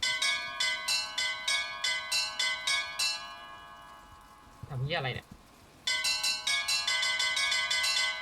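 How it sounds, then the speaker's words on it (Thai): Repeated bell strikes ring out in the video game Bioshock Infinite, loud and rhythmic, then pause while a man briefly exclaims, then resume in a fast, even series. "อันนี้คือกระดิ่งอันที่หนึ่ง"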